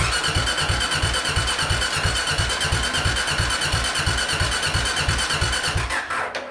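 A motorcycle engine, restarted after its fuel supply was cut to burn off leftover fuel, runs with a steady rapid chugging pulse up close, then sputters and dies at the end.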